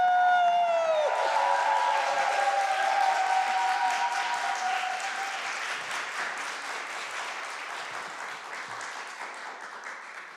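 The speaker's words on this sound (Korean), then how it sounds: "큰 박수로 환영하겠습니다" Loud, full applause from a church congregation welcoming a pastor at a spring revival meeting, with some cheering over it. A voice fades out at the start, and the clapping stays dense while slowly growing softer over ten seconds.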